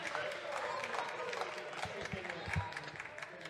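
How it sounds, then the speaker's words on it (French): Members of a French parliamentary chamber clap and cheer, with dense, sustained applause and crowd noise for several seconds in a large hall, and indistinct voices mixed in. "Applaudissez, soyez fiers de vous."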